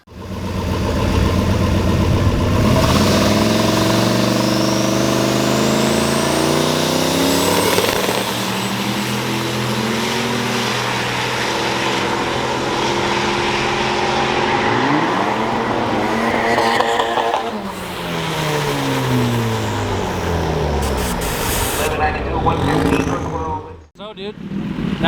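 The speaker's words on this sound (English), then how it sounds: "that was a pretty good burnout" Turbocharged Chevrolet Tahoe doing a burnout at a race track, a loud sustained engine roar with rising and falling revs and turbo whine, close throughout, ending in a sudden drop.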